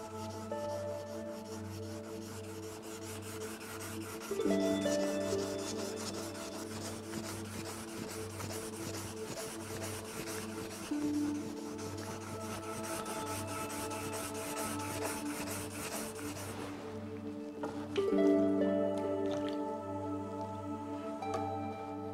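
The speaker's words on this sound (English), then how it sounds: "Dip the block in the polish and start polishing." A chef's knife blade being polished with a wood block dipped in polish, giving repeated slow rubbing and rasping strokes, close and steady, with a few louder scraping passes.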